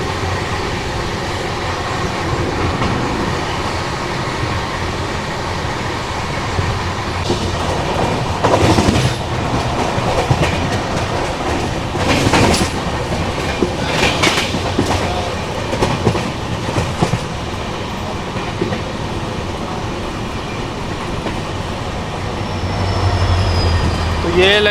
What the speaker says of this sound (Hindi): अभी बाड़मेर यशवंतपुर AC एक्सप्रेस आने वाली है, उसकी क्रॉसिंग हम आपको दिखाते हैं